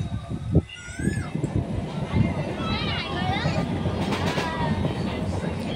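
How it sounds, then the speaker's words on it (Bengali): A passenger train pulls away with a low continuous rumble and rattle of carriages, while people chatter nearby and children's voices squeal over the noise. "সবাই উঠে পড়লাম ট্রেনে। ট্রেনটা ছেড়ে দিল।"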